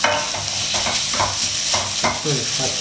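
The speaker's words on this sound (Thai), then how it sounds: "แต่นี้เราจะคั่วชะโป๊ะให้หอมก่อนนะ" Chopped preserved radish (chai po) is stir-fried in a hot pan: a loud, continuous sizzle broken by repeated scraping strokes of a utensil, with a brief spoken word over it.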